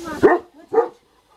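A dog barks twice close by, two short loud barks about half a second apart, then silence.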